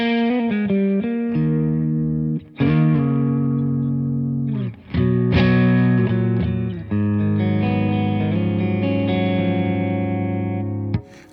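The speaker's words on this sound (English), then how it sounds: "Let's add some more reverb." Electric guitar through a Victory V4 Kraken amp with added reverb, a series of ringing clean chords and arpeggiated notes with brief gaps between phrases, loud and close, with long washy tails.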